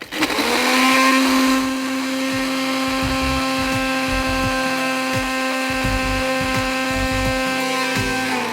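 An electric grinder whirs loudly and steadily as it grinds a roasted spice mix, a strong motor whine that starts with a sharp surge and then holds at an even pitch for several seconds, with no talking.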